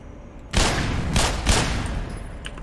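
Gunfire in the shooter game Black Mesa, a loud burst of rapid shots that starts suddenly and rattles on for about two seconds, close and forceful, then fades into quieter ambience.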